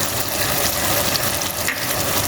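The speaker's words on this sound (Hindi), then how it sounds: "इसको अच्छी तरह से भूनेंगे।" Ginger garlic paste and tomatoes fry in a pan for a karela chicken curry, giving a steady, close, continuous sizzle that stays even throughout with no talking.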